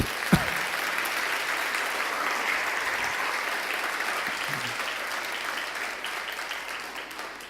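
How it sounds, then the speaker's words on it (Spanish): A church congregation claps steadily through a sermon on God's purpose for families, a sustained wash of applause with one sharp thump near the start, easing slightly toward the end. "Denle un aplauso al Señor por ello"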